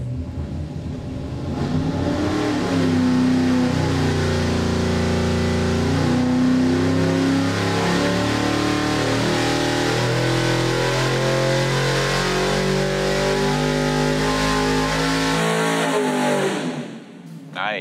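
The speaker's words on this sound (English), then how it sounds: "we're gonna make a hit and see what our racy street engine does here" A 496 cubic inch stroker big-block Chevy street engine roars on a dyno for a full pull, loud and continuous, its pitch climbing steadily from low rumble to high revs before cutting off abruptly near the end.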